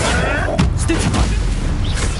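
A stunning spell cast in Hogwarts Legacy lands as a short sharp burst with a booming impact, amid dense game noise and brief voice sounds.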